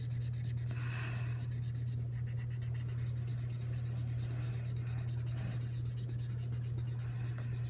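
Marker drawing and coloring on paper, the tip scratching steadily in short strokes and fills throughout, close and moderately loud over a constant low electrical hum, with no talking.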